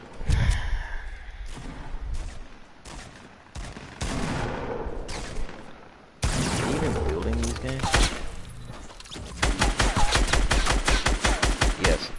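Drum gun firing in a shooting video game: bursts of rapid automatic gunfire with sharp, dense repeated shots, loudest near the end, separated by quieter stretches with breathy sighs and gasps.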